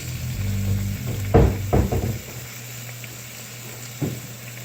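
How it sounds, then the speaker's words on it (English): A big strip of bacon laid onto a hot mini grill beside a hamburger, a brief crackle and clatter as it goes down, then a soft steady sizzle. "now we're going to put on a big strip of bacon right here"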